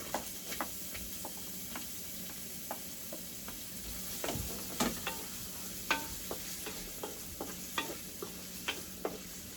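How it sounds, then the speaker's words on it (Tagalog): Onion sautéing in a little hot oil in a pan for pork menudo, a faint steady sizzle under frequent light ticks and scrapes of a stirring utensil, close by, with no talk. "And now we saute our onion"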